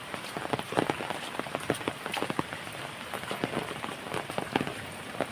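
Monsoon rain falls steadily near a flooded small river, with close pattering drops hitting surfaces in a continuous irregular patter and no talking.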